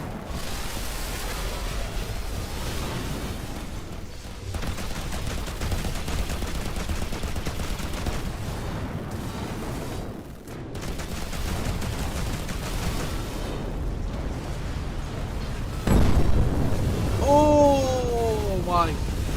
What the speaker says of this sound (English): Press 2 to launch a nuclear missile against an enemy ship